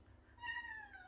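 A single cat meow, one drawn-out rising-then-falling mew lasting under a second, close and clear over a faint low background hum, with no talk.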